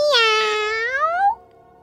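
A single cat meows clearly, one drawn-out meow of about a second and a quarter, close and alone without other sounds.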